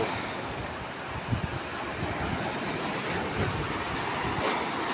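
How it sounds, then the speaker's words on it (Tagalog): Large ocean waves pound the shore in a steady, dense wash of surf, with wind noise on the microphone and no voices. "Ay, delikado maligo pagka ganito malalaking alon."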